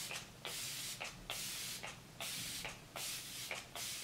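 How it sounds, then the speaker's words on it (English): Rapid bursts of fine makeup setting spray mist, about eight short hissing pumps in quick succession, close and fairly quiet. "The first one is a matte setting spray."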